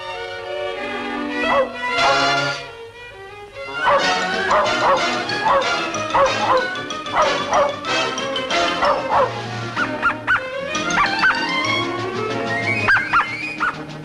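A cartoon dog-fish from a 1962 Looney Tunes short barks and yips repeatedly in quick, lively bursts, with whimpering tones and cartoon background sound beneath.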